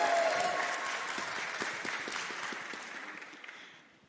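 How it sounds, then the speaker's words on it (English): Church congregation applauding and cheering during a traditional Sunday morning worship service: a full wash of clapping from a crowd in a large room, steady at first and then thinning and fading out over about four seconds. "That would be a good place for a cheer"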